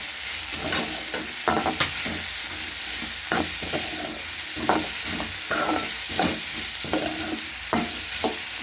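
Onions and chopped vegetables sautéing in a pan for vegetable upma, a steady close sizzle broken by repeated scraping stirs of a spatula, with no talking.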